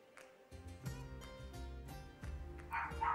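Dogs barking in a quick run of sharp, close barks and yips, fairly quiet overall.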